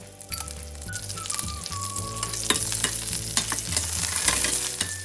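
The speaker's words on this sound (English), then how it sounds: "Fry the peanuts in oil until they are nice and crisp, and then add a teaspoon of mustard seeds and a few curry leaves" Peanuts, mustard seeds and curry leaves frying in hot oil, giving a loud, dense crackling sizzle with rapid popping and clinking stirs of a utensil against the pan, growing busier as it goes.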